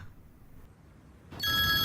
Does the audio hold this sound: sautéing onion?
no